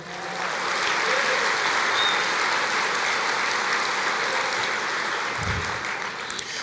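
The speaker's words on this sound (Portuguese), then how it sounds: "Você pode aplaudir o Senhor?" A church congregation applauds during a sermon, a dense, steady wash of clapping that holds for several seconds at a fairly loud level with no talk over it.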